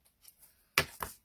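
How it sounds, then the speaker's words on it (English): Scissors cutting ribbon for a paper craft tulip project: two crisp, close snips about a quarter second apart, each followed by a short rustle, with faint soft handling sounds before them in a quiet room. "Now I'm going to cut my ribbon."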